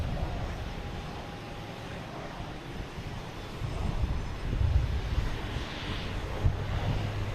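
An Iberia jet airliner departing Boston Logan Airport: a low, steady engine rumble with wind noise that swells slightly toward the end, heard at a distance without any talk.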